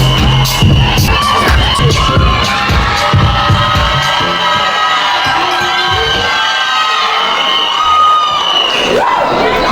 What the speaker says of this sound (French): Applaudissez pour vous, s'il vous plaît